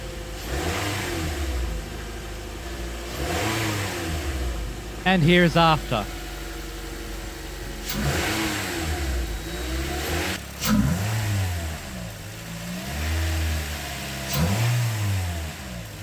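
A Toyota Corolla engine fitted with a JDM aftermarket air intake kit, idling and then revving in several sharp bursts that rise and fall, loud and close, with a brief spoken line between revs.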